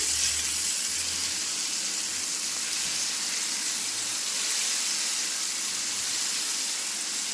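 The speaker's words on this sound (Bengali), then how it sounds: "বড়াগুলো দিয়ে একটু নাড়াচাড়া করে নিচ্ছি" Fried lentil fritters being stirred in a pan for chapor ghonto: a steady, loud frying hiss runs throughout, close and even, with faint low scraping beneath.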